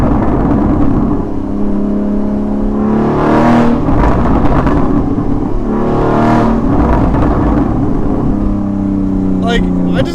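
A 981 S sports car engine revs loudly and repeatedly, rising and falling in pitch close by, with a roaring throaty exhaust throughout.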